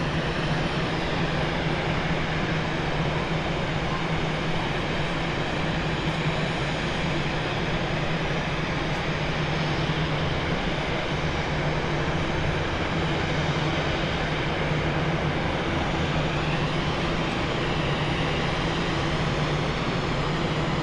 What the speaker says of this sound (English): Flo, you wanted A340s, you got two already